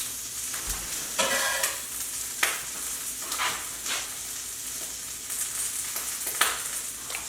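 Shrimp fry in a hot pan with a steady, close sizzle and crackle, broken by several bursts of scraping and stirring, with no talking.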